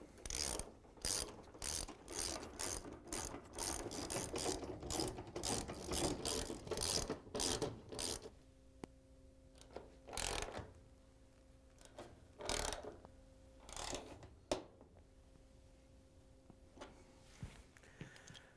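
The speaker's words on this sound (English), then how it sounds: "grab the 13mm socket with the ratchet and tighten them down" A ratchet with a 13mm socket clicks rapidly and repeatedly while tightening the shipping bolts on a GE washer, in quick bursts at first, then sparser single strokes with quiet gaps.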